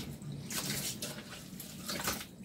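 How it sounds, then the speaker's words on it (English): Cold tap water runs steadily into a basin for a second rinse of raw fleece, a continuous close splashing rush with brief surges of louder spray. "So we're doing a second rinse now, just add the cold water"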